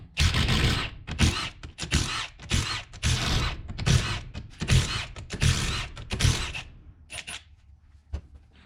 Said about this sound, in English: undo all the ring gear bolts and then knock the ring gear off